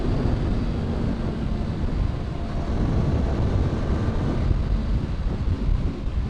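Strong countryside wind buffets the microphone in a dense, low, constant rumble that stays loud and steady throughout, with no voices.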